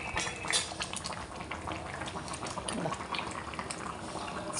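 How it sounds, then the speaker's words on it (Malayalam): Coconut milk, the first extract, bubbling at a steady rolling boil in a pot, a close, dense and continuous seething with small pops and occasional light clinks, heard alone. "ഞാനൊന്ന് തിളക്കട്ടെന്ന് വിചാരിച്ച് ആദ്യത്തെ പാലിനാണ് ഈ തിളയ്ക്കുന്നത്"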